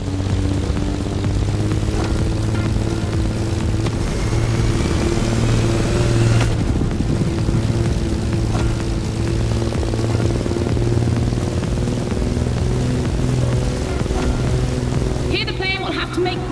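Airborne plane engine in The Crew Motorfest racing an AGP car, a loud steady propeller drone with sustained harmonic hum and shifting engine tones, a commentator talking over it throughout.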